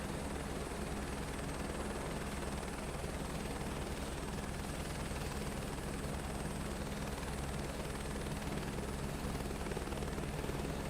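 A helicopter in Microsoft Flight Simulator 2024, on a career oil-rig delivery flight, holds a steady loud rotor drone with a constant whine on top, unbroken and close throughout.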